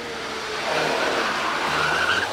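A Ford Model A Tudor two-door hill climb car drives up the course, its engine a steady rumble with a rising whine and tyre noise building over a couple of seconds, fairly near and loud.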